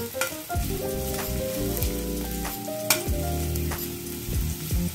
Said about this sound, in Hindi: जैसे ही तेल गरम हो जाए उसमें लहसुन डालिए उसके बाद प्याज और मिक्स कर लीजिए